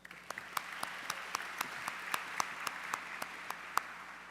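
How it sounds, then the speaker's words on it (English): Applause from an awards ceremony crowd at the Silver Knight Awards, heard faint and distant, with a few sharper individual claps standing out at a loose, steady rhythm. "A round of applause, please."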